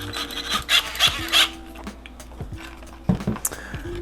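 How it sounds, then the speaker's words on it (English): A bigger drill bit bores an antenna hole in an RC truck body, giving three short raspy grinding bursts followed by faint handling clicks and scrapes, fairly close and quiet. "you're obviously gonna need a bigger drill bit."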